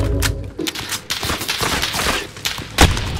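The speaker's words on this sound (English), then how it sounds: "Somebody's shooting at you from up at the prison mine" Rapid gunfire in Call of Duty Warzone on the Verdansk map, a dense, crackling volley of shots in quick irregular bursts with heavier thumps mixed in, continuous and loud throughout.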